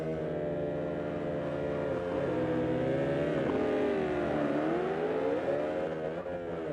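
Video game car sits stationary while its engine revs, a steady droning note that swells and dips in pitch without pause, moderately quiet and alone.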